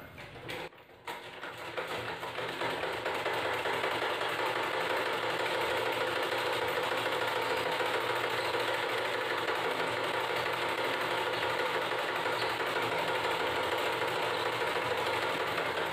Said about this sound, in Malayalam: നമ്മൾ ടോപ്പിൻ്റെ കഴുത്താണ് ആദ്യം തയ്ക്കുന്നത്